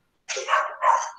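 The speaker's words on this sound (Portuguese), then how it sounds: "O cachorro está me enlouquecendo aqui." A dog gives two quick, close barks in succession, loud against an otherwise silent background.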